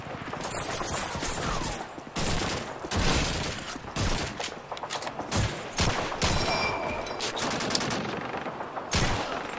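Gunfire in the Call of Duty 2 video game: loud, close bursts of shots and rapid fire in a busy battle, with repeated sharp cracks across the whole stretch.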